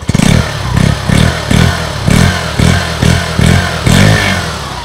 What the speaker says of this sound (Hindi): अभी हम इसका एग्जॉस्ट साउंड सुनते हैं, ये बिना रेस की है, इंजन का आवाज सुनिए आप। अब हम लोग इसमें रेस देंगे